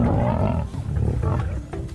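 Lions roar in a wild-animal documentary setting, a deep, loud, continuous rumbling call that swells and dips steadily across the two seconds.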